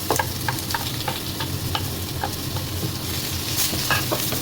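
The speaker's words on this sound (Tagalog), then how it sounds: "So, lagyan natin yung sibuyas at luya." Sliced onion and ginger sizzle in hot oil with golden-browned garlic in a frying pan, a loud, steady crackle with scattered pops and light stirring scrapes throughout, no talking.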